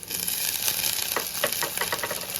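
Chopped green chillies fry in hot oil in a pan for semiya upma, a steady close sizzle broken by a quick run of crackles and spoon scrapes near the end.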